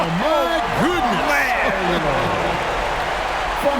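Crowd cheering in the NBA 2K24 basketball game, Charlotte Hornets vs Miami Heat, after a highlight play: a steady roar of arena noise with voices rising and falling over it.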